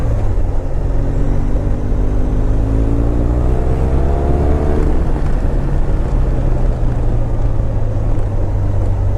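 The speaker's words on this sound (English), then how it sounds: "I'm gonna go through the throttle motions here, make sure there's nothing weird going on." A BMW R1200R motorcycle engine idling loud and close as the throttle is worked, its steady rumble rising in pitch to a brief rev around midway and then settling back down.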